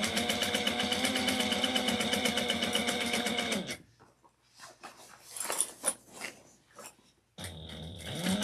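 A sewing machine stitches around a fabric bag in two loud, steady motor runs, with a quieter gap between them filled with soft handling clicks and rustles.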